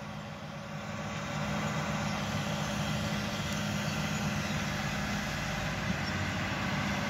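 The heavy engine of a Case Steiger 420 tractor with a 45-row planter drones steadily, growing slightly louder in the first second and then holding a constant, close rumble with no talking.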